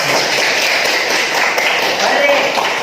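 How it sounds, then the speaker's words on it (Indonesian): Classroom of students clapping together for a group after a team game activity, a dense, even burst of applause at close range lasting a few seconds. "Tepuk tangan."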